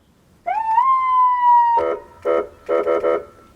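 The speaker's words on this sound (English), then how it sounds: "Let's go try the siren out." A police car's electronic siren, set at about half volume, sweeps up into a long steady tone, then breaks into several short, loud yelping bursts close by.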